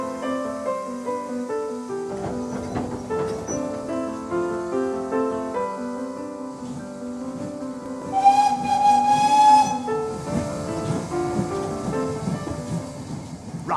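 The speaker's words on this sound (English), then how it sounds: "you've got to have a steam engine to pull a train" A steam locomotive rumbles and hisses with a steady tonal drone, then a loud whistle shrieks for a second or two before fading under the engine noise.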